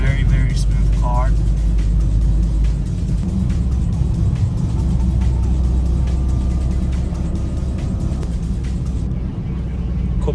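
Toyota GR Corolla rolling along a Japanese mountain road, heard from inside as a steady low engine and road drone throughout, with people talking over it.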